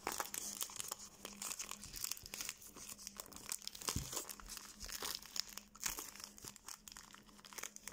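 A packet of Euro 2024 trading cards is crinkled and torn open, producing continuous close crackling and rustling with sharp rips and crunches throughout and no talking.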